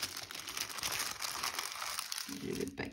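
A bubble-wrap padded mailing envelope being torn open, with close, loud crinkling and crackling plastic rustles running throughout and a brief tearing sound near the end.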